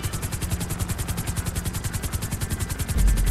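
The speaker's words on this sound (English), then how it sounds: "Let me try to hover the helicopter here." A helicopter's rotor thumps in a fast, steady chop with a constant engine drone, growing slightly louder at the end, as it hovers in GTA Online.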